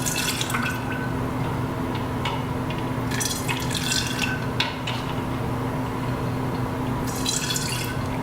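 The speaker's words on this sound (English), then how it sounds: "We're gonna add the juice that I prepared, the lemon and ginger juice. We're gonna put it in each one of these" Lemon and ginger juice trickling into glass jars of kombucha: a steady faint pouring and dripping patter with occasional splashy bursts over a low steady hum, with no talking.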